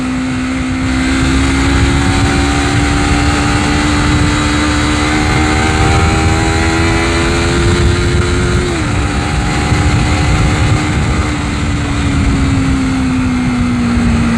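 Honda CBR250RR motorcycle fitted with a 3Tech Evox X5 silent black exhaust, a loud close engine note rising steadily as it revs, easing off briefly, then holding high.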